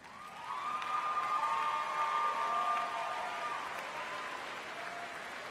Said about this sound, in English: I would like the graduates to join me in a standing round of applause